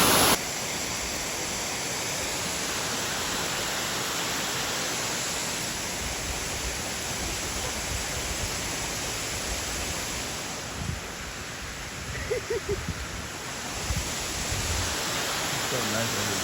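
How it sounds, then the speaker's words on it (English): A loud waterfall in Oregon roars as a steady, close wash of rushing water that fills the whole scene, with a few faint bumps near the end. "the water's really, really loud"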